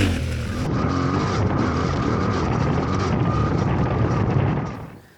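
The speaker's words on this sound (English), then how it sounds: "put your motorbike back into the second gear, because the next part of this track you will need speed and you will need power, and you will have it from the Yamaha T7" Yamaha T7 adventure motorbike pulling hard in second gear on a short exercise track: a loud, sustained engine roar with wind buffeting, building steadily before fading out near the end, no talking.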